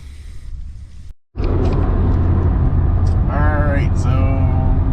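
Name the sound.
car driving onto the highway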